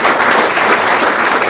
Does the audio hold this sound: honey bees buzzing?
no